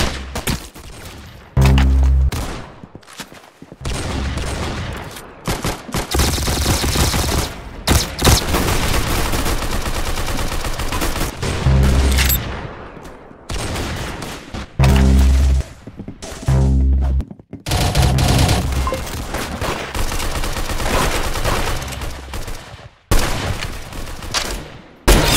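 A video game produces loud gunfire in repeated automatic bursts, with heavy booming shots and brief pauses between volleys, continuing for about 25 seconds.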